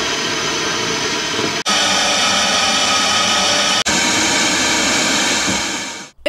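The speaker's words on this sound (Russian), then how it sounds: "Это шум на волнах ранее популярных крымских радиостанций «Асо»" Steady loud radio static hissing on the frequencies of shut-down Crimean radio stations, broken by two very brief dropouts and cutting off abruptly at the end.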